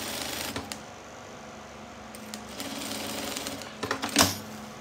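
A sewing machine stitches a seam on the lining of a crossbody bag, running in uneven bursts of rapid mechanical clatter with brief pauses. A louder clunk comes near the end.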